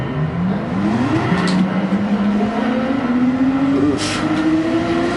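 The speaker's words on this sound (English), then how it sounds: "This Porsche is not getting off the line like it should." Porsche race cars in Gran Turismo Sport online racing, engines droning and rising steadily in pitch through the gears, loud and continuous, with a brief spoken exclamation over them.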